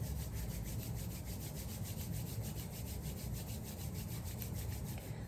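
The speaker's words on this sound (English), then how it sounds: "taking your hands together, rubbing them, creating friction" Two palms rubbing briskly together during a yoga flow, a steady continuous friction swish with a faint rhythmic pulse, close and fairly quiet, with no talking.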